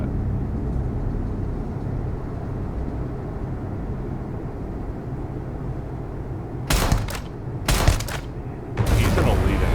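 Gunfire in the Starfield video game during a sneak attack on an elite enemy: a steady low ambient hum, then three sharp, loud shot bursts near the end.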